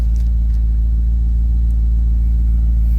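Mercedes CLK63 AMG convertible with the M156 6.3L V8 rumbles under load, a loud, steady low engine drone held for several seconds with no talk.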